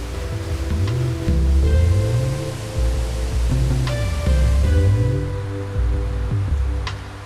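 Steady rushing water, flowing around a cave area in the Karabük countryside, a continuous broadband wash that fills the clip with occasional faint tones over it.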